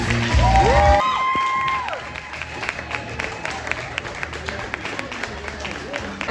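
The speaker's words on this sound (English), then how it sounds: "Let's give a big old round of applause to all" Audience at a show bursts into applause and cheering, with voices rising over it, then the clapping thins into scattered claps while talk continues.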